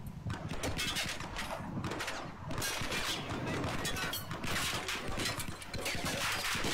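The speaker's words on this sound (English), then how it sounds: "Where am I getting shot from?" Rapid bursts of video game gunfire crackle and pop continuously, dense volleys close and loud throughout with no pause.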